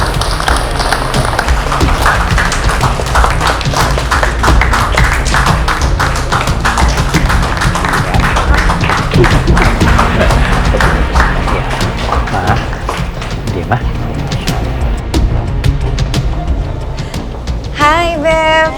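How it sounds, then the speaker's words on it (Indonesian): A live audience at an evening televised event claps loudly and steadily for a couple being welcomed on stage, dense applause running continuously near and full before thinning near the end. "Beri tepuk tangan yang meriah."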